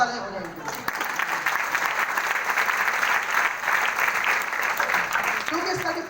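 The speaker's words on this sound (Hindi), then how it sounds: "जोरदार तालियां हो जाएंगी" A hall audience at a talk breaks into sustained, crisp applause lasting several seconds, with brief bits of speech at the start and end.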